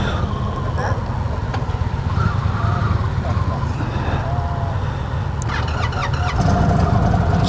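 A 2025 Indian Springfield Dark Horse motorcycle engine starts and settles into a steady, loud idle rumble close by, with a brief rise near the end, while people talk nearby.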